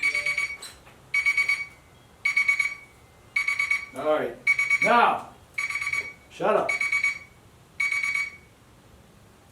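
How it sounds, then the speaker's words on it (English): A kitchen timer goes off during the boil of a beer being brewed as an 1880 Whitbread Porter, sounding eight evenly spaced bursts of shrill electronic beeping, loud and close, while someone talks over the middle beeps. "Timer."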